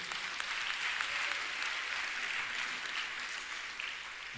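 Church congregation applauding during a French-language praise and worship service, a dense, steady wash of clapping that continues throughout with no pauses.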